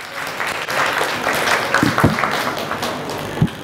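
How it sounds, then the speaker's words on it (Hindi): An audience claps at a youth leadership conference session on self-care, a dense, fairly loud round of applause with a few sharper thumps and some voices rising through it. "तालियां बजा दें जी इन सब लोगों के लिए।"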